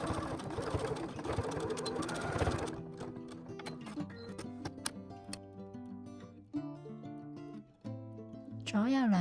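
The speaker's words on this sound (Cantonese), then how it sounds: "記得要留意車嘅時候呢，避免呢車到拉鏈嘅頭尾掣" A domestic sewing machine runs briskly while stitching a zipper onto a fabric crossbody bag, its rapid needle chatter loudest in the first few seconds, then fading into lighter ticks under a speaking voice.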